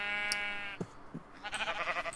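Sheep in Minecraft bleat in a close, clear wavering cry, then a couple of short thumps, and then a second bleat, a bit rougher.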